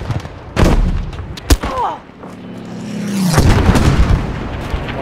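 Artillery explosions in the World War II shooter game Battlefield V: several heavy booms and sharp blasts burst out over a steady battlefield rumble, with a low engine-like drone in the middle and a voice speaking between them.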